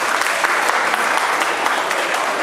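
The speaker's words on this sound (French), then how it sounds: "On applaudit d'abord pour le couple." Wedding guests at a Gabonese civil wedding evening party applaud the couple, a steady, dense wash of clapping from a large crowd held at an even level throughout.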